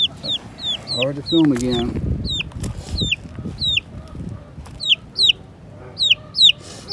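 Small chicks peep repeatedly in short, high, rhythmic chirps, close by, while a person talks softly over them early on.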